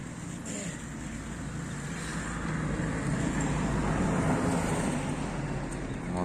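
A ZIL 131 truck engine runs with a continuous low, heavy rumble that builds slightly and holds steady, heard alone at moderate loudness.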